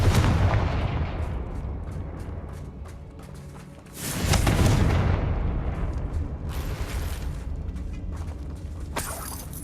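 Repeated Confringo blasting-spell explosions in Hogwarts Legacy, booming bursts with crackling debris, a strong blast surging midway and further impacts following, no talking.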